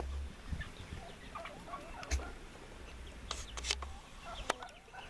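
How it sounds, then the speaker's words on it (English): A turkey hen on a poultry farm sounds off in short, high, scattered bursts at middle distance over a low outdoor rumble, with a few sharper calls standing out near the end. "it sounds like one of my turkey hens may have jumped the fence"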